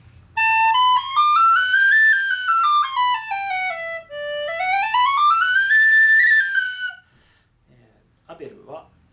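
A Burke tin whistle in D plays a smooth phrase that rises, falls and rises again over several seconds, loud and close with clear bright harmonics, ending in brief silence before a faint breathy sound.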